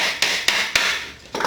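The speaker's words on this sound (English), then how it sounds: "let me continue hammering all this in" Four sharp hammer strikes driving hardware into a wooden tansu chest, evenly spaced about a quarter second apart, close and loud, with a faint scraping hiss between blows.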